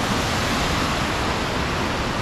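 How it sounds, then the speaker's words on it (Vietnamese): A fast-flowing mountain stream in a scenic Chinese valley resort rushes steadily, a dense, loud, unbroken wash of water noise filling the whole moment with no voices. "Vì cái dòng suối ở đây chảy rất là xiết này các bạn xem"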